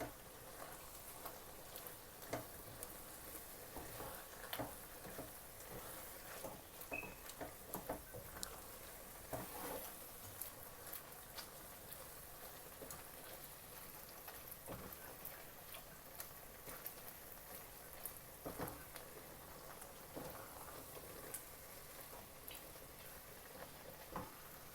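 Semolina halwa with sugar and ghee roasting slowly in a pan: a faint, steady sizzle with soft irregular ticks and taps of stirring running continuously, with no talk.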